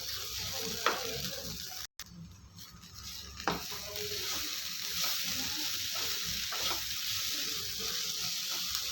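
Soya chunk pepper fry with chopped coriander being stirred in a pan: a steady sizzle of frying runs throughout, with a few sharper utensil knocks against the pan and a brief dropout near two seconds.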